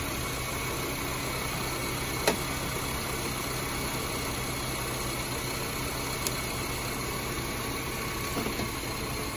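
A car engine idles steadily with a car that won't start and a suspected bad battery or alternator, a constant low hum with faint mechanical vibration and a few brief clicks, no talking.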